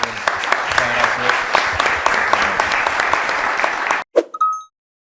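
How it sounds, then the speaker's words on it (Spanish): Audience applause for a departing professor at a legal panel discussion, steady dense clapping for about four seconds that stops abruptly, followed by a brief voice. "Lo despedimos con un aplauso al profesor."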